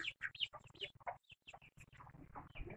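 A hen clucks in quick, choppy bursts nearby, a busy stream of short calls with brief gaps.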